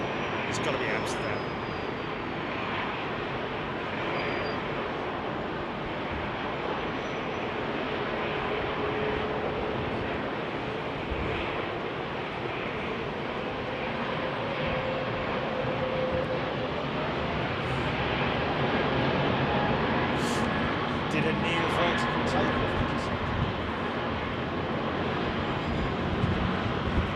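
Aircraft noise at London Heathrow Airport in windy weather, arrivals and loud departures, a steady broad roar holding throughout with gusty wind buffeting the microphone and faint voices beneath.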